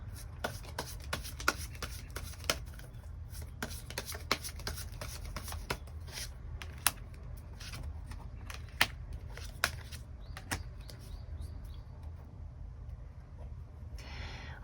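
Tarot cards being drawn and shuffled in a love-and-life reading, a steady close patter of card rustles with sharp flicks and snaps scattered throughout, alone without voices.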